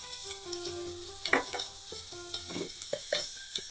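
Chopped onions frying in a pan for fish pickle, a faint sizzle broken by short, sharp scraping stirs and clinks of a spoon against the pan.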